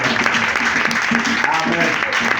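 Church congregation clapping together in a steady, loud wash of applause throughout, with a voice speaking over it.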